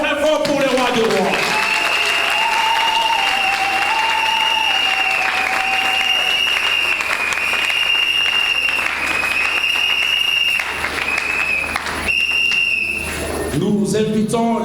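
A church congregation applauds loudly and steadily for about fourteen seconds. Sustained musical tones ring over the clapping, with voices mixed in, before the sound briefly dips near the end.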